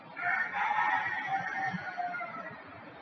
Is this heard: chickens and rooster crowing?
yes